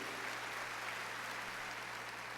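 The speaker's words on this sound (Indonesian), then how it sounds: "Beri tepuk tangan yang meriah buat Tuhan." Steady, dense applause fills a church hall during a Good Friday worship service, a continuous wash of clapping from a congregation with a low hum beneath and no voices standing out.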